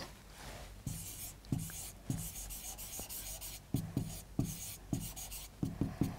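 A pen scratches out a physics solution in short bursts of writing, each stroke a quiet, close scrape with brief pauses between, and no voice over it.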